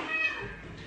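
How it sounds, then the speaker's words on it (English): A cat meows once with a drawn-out, wavering cry close by, fading into soft household background noise. "cat keeps meowing"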